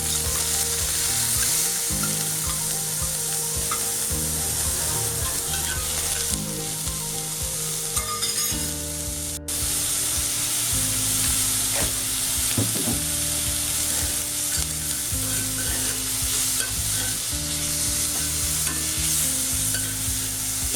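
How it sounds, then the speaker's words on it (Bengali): Prawns fry with browned onions in a pan for a Bengali taro-and-prawn dish, a steady close sizzle with repeated stirring and scraping throughout and no talking. "এরপর আমি চিংড়ি মাছগুলো অ্যাড করে দেবো।"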